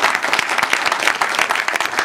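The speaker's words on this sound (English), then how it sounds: "let's give everyone here a fantastic applause" An audience at a spring speech event breaks into dense, steady applause, with many hands clapping together throughout.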